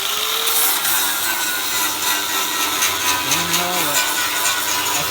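A power tool cuts sheet metal on a 1966 Nova car body being built into a race car, giving a loud, continuous grinding buzz close by with brief shifts in pitch as the blade works.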